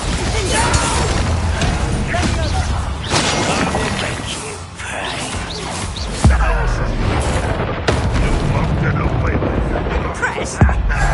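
A Bombarda explosion spell in Hogwarts Legacy bursts into booming, crashing blasts amid a loud, busy mix of game noise, with sharp impacts punctuating the continuous din and some voice present.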